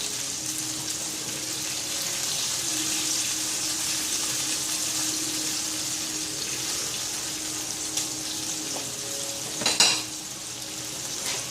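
Steak fries in a pan with a steady, close sizzle that runs throughout, broken near the end by a brief clatter.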